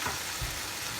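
Beaten eggs fry in dal, a brief, soft, steady sizzle with a faint low bump midway.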